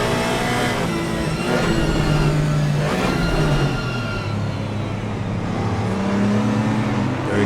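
GT4 race cars battling nose to tail at Donington, engines roaring continuously with rising and falling revs as the pack runs close together, loud and near throughout.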